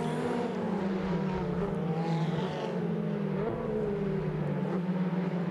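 Ferrari Challenge race cars and the Hublot safety car circling the Imola circuit, a steady, loud engine drone holding throughout with a faint rising whine passing mid-way.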